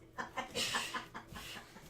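A pet chicken kept indoors in a bathroom bathtub clucks in a quick series of short, throaty calls, fairly close in the small room, with faint background murmur between them.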